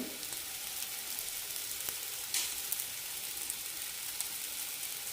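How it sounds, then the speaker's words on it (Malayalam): Colocasia masala fry sautés in a pan, giving a steady, close sizzle of frying with occasional soft scrapes and stirs and no voices. "നന്നായി വഴറ്റിയെടുക്കണം അപ്പോഴാണ് കുറച്ച് ക്രിസ്പി ആയിട്ട് കിട്ടുള്ളൂ"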